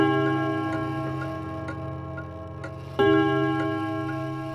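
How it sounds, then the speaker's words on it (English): A clock ticks steadily with a muffled, resonant chime ringing underneath, the tone swelling louder partway through, close and alone without speech. "Kei heard the muffled sound of a clock chiming."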